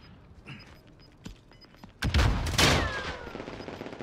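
Gunfire in the video game Warzone: a loud burst of shots at about two seconds, then a second volley that trails off, with quieter game ambience before and after.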